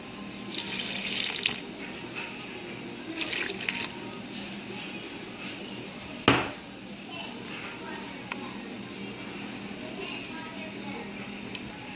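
Water pours and splashes into a container in short bursts over a steady background hiss, with one sharp knock partway through; half a cup of water added to flour for a sourdough starter.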